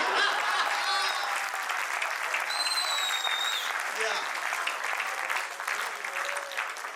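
Audience at a Hindi comic poetry gathering claps continuously and fairly loudly, with voices, faint chuckles and a few whistle-like tones mixed into the crowd noise.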